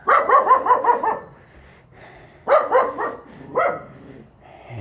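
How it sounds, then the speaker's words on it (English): Several dogs bark in a narrow Vietnamese alley: a quick run of five close, loud barks, a pause, then two more short bursts and a single bark, with faint street ambience between. "More dogs."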